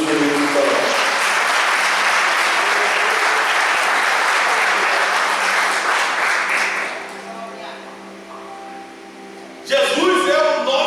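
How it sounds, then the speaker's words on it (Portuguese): A church congregation claps and applauds loudly for several seconds during a Sunday evening service, then fades to quieter sounds before a brief burst of noise returns at the end. "Aplauda o Senhor Jesus por isso."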